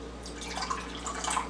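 Water streams from a tea kettle into a mug in a kitchen, a steady close liquid trickle with small splashy drips running for the whole short stretch.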